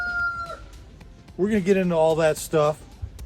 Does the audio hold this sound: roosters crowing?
yes